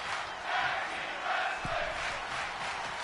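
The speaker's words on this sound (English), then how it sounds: "The crowd chanting tag team wrestling." Arena crowd at a tag team wrestling match chants loudly and continuously in a steady rhythmic swell, a dense wall of voices with a brief thud partway through.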